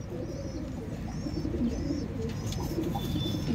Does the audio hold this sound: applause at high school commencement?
no